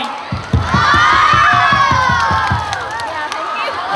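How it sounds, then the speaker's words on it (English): A group of schoolchildren at an English club session claps and cheers together, rhythmic hand claps repeating under loud overlapping shouts and excited voices, close and energetic throughout. "Big clap hands for a lovely morning."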